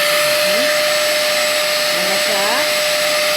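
A wet and dry vacuum cleaner runs after being switched on, giving a steady, loud motor whine and airflow hiss that lasts the whole time, with a few words of speech over it.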